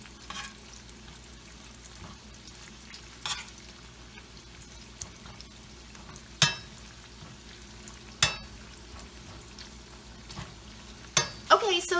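Tortillas frying in hot oil, a steady soft sizzle broken by occasional sharper scrapes and clacks as they are stirred and moved around the pan.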